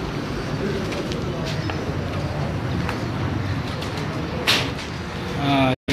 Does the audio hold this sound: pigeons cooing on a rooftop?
yes